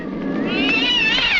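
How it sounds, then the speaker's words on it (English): A pet cat gives a long, loud, drawn-out meow that rises and wavers in pitch, like a caterwaul, held steadily over a household scene with no talk. "Henry, leave that cat alone."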